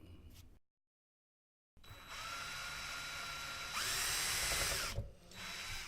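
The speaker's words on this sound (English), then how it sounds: "Then I take the drill." A power drill bores into wood while building a dulcimer, running steadily for several seconds with a rising whine midway, after a brief silent gap at the start.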